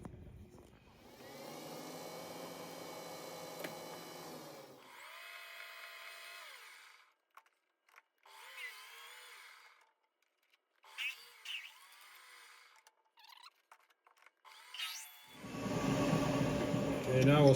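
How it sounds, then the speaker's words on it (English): Metal is spot drilled and then drilled on a machine for an engine cam gear part, with a steady whining machine tone, pauses and shorter runs, and a louder grinding burst near the end. "The first thing we're going to do is spot drill it and drill a hole, and then open it up with a boring bar."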